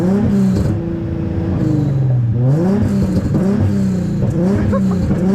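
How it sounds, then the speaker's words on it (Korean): A car held stationary at a motorsport gymkhana event revs repeatedly into a limiter set at 4,000 rpm, a loud close engine note that rises, holds and wavers as the limiter cuts in, with no talk over it. "제자리라서 4천에 림이 걸려 있어요"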